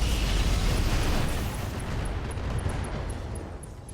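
Mech weapons fire in the RogueTech video game as a loud, roaring blast that rumbles on and slowly thins out over a few seconds, with no voices.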